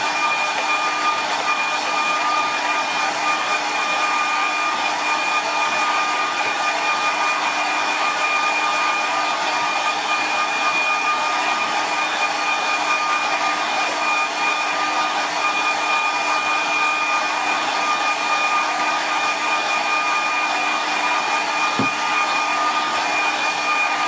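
Hair dryer blowing on a watercolour painting of a simple bridge, a steady loud whirring rush that runs unbroken for the whole stretch.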